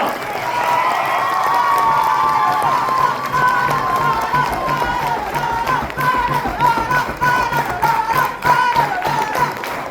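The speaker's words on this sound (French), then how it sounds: "je vous demande de les applaudir bien fort parce qu'ils ont été vraiment forts" An audience at a cosplay contest in a convention hall applauds and cheers for the participants, producing sustained loud clapping with whoops and shouting voices throughout.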